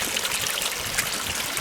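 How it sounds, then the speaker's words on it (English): Water from a pond vacuum's discharge box flows back into a garden pond, a steady close trickling and splashing stream running continuously without pause. "the water's returning to the pond nicely"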